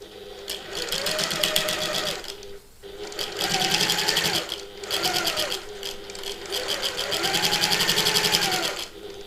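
A sewing machine stitches a bag seam in several loud, close runs of rapid whirring, each lasting a couple of seconds and separated by brief pauses, with no talking.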